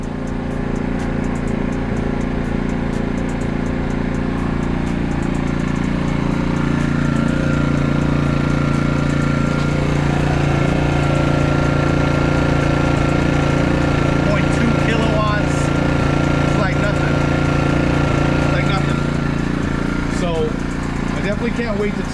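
AIVOLT 4300W gas-powered portable inverter generator running steadily up close, a continuous loud engine drone with a low hum and mechanical rattle that holds even throughout.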